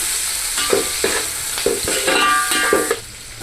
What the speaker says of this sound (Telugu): మొత్తం ఒకసారి మిక్స్ అయ్యే విధంగా కలుపుకోవాలి.